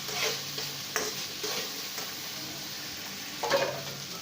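Chicken and masala fry with ghee in a pan, a steady sizzle punctuated by several short stirring scrapes, the last one near the end a bit louder.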